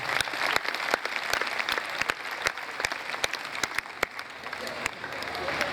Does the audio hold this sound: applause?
yes